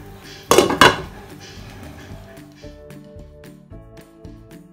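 Metal lid set onto a boiling cooking pot, giving two loud close clanks of metal on metal, then quieter rattling and clinking of cookware.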